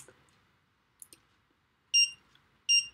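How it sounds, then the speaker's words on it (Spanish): A programmed minisumo robot gives two loud, sharp electronic beeps close by, following a couple of faint clicks in an otherwise quiet room. "porque le hemos programado un pitido"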